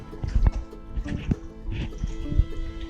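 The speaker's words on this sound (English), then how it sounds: "the dog's got to come drink water." A thirsty dog drinks water from a bowl at home in Alaska, a rapid series of wet lapping splashes close by with a faint murmur in the background.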